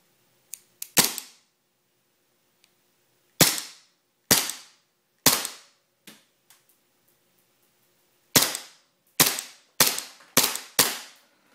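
Airsoft gun fired at a small brown box target, about a dozen sharp snapping shots in separate bursts, crisp and close with quick decay and silence between.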